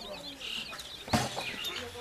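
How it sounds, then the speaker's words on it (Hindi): A hen with her chicks clucks in a green village in West Bengal, with soft, irregular clucks and chirps close by and a sharper call partway through, over quiet outdoor background. "यहाँ पर मुर्गी और उसके प्यारे प्यारे चूजे"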